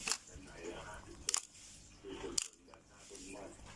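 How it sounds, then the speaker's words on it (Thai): Nikon FA film SLR shutter fired at a one-second speed during a post-repair test, giving sharp mechanical clicks spaced apart, close and clear, with someone talking quietly between them. "ชัตเตอร์1วิ"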